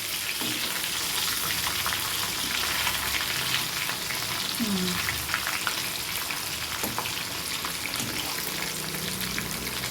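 Fish sizzles and crackles in a hot pan as pieces are turned, a dense, steady frying hiss with scattered pops and a few utensil clinks, close up and without speech.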